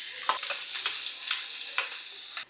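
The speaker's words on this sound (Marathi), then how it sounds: "तेल गरम झालं, यामध्ये घालूया अर्धा चमचा मोहरी. मोहरी तडतडली" Mustard seeds splutter and crackle in hot oil in a pan while tempering for vada pav, a steady hiss broken by sharp popping bursts, close and fairly loud with no talking.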